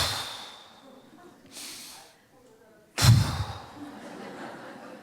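A voice imitates deep sleep breathing, drawing a breath in, then blowing out a long, forceful puff as if putting out an oil lamp, close and loud in a quiet room.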